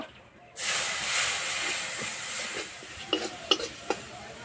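Water splashes into a hot pan of Maggi masala, chili, coriander and turmeric powders, erupting into a loud, steady sizzle with a few sharp crackles near the end.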